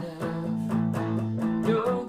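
Guitar playing a quick octave run at the end of a worship song chorus, a few plucked, sustained notes stepping upward in clear succession, close and solo.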